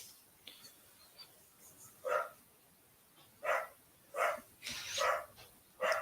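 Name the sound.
dogs barking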